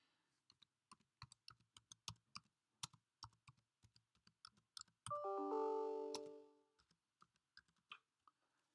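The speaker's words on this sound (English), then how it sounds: "I am going to type in my own password." Someone types a password on a computer keyboard, crisp irregular key clicks close up, with a brief sustained tonal chime cutting in midway before the tapping resumes, no voices.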